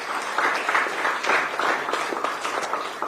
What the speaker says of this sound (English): A big round of applause again for him